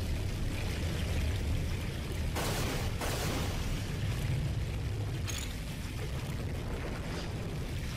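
Continuous rushing water ambience in the video game Unreal, a steady broadband wash with brief louder splashy bursts, filling the whole stretch without voices.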